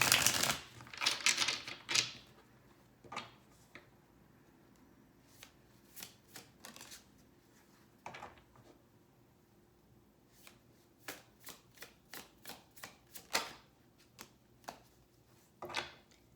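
Tarot cards are shuffled by hand in crisp, papery riffles, a loud cluster at the start followed by scattered quieter snaps and flicks, close up with no talking.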